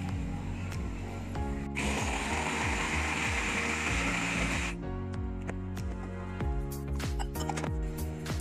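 A hand blender crushes boiled sambar dal with onion, tomato, garlic and brinjal, a steady motor whir with repeated rhythmic chopping thuds, a harsher burst in the middle, fairly close.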